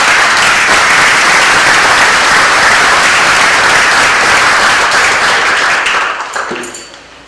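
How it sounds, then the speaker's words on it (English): A crowd at a Veterans Day ceremony in Lawrence gives a loud, sustained round of applause, dense and even for about six seconds before tapering off to scattered final claps and quiet. "Please, let's give them all a round of applause."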